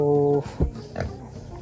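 A sow's low grunting and snorting up close, a steady nasal tone followed by a few rough grunts, with some background noise.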